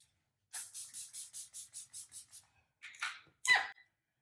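Pixie Glow Tonic facial mist sprays in a quick run of about nine short, even pumped hisses close by, then a couple of softer rustles and a sharper final spritz in a quiet room.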